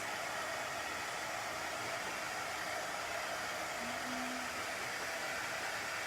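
A hair dryer blows steadily and loudly at close range, drying chalk paste on a wooden home decor shelf sitter, a constant even whoosh from start to finish with no talking.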